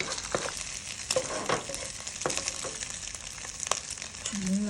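Egg frying in a wok for pad thai, a steady broadband sizzle with scattered light clicks and scrapes running close and continuous throughout.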